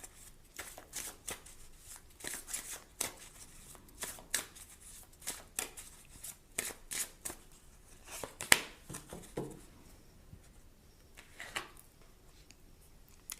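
Tarot cards are shuffled in quick, crisp riffling bursts, close and fairly quiet, repeating in an irregular rhythm with short pauses between bursts.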